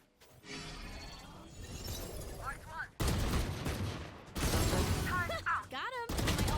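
Sheriff revolver firing in Valorant, sharp cracking shots among game sounds, loud and close with short bursts separated by gaps, while a voice talks over the action.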